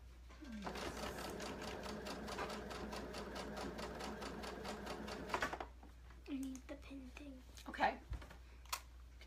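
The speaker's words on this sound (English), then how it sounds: "My machine has adjustable speed, which is perfect for a young person to sew on it." A sewing machine with adjustable speed stitches a shark tail blanket in a steady, rapid mechanical run, then stops abruptly, followed by a child's and an adult's voices talking briefly.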